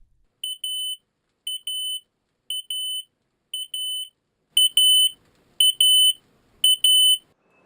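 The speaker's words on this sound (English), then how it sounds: "and the alarm goes off" A smoke detector alarm sounds in repeated shrill electronic beeps, each burst a quick double pulse, eight bursts at a steady rhythm, growing louder and harsher in the last four, with silence between.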